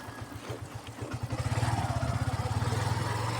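Motorcycle ridden along a winding hill road, its engine chugging in a fast pulsing rhythm that swells louder as it accelerates, heard close from the rider's position.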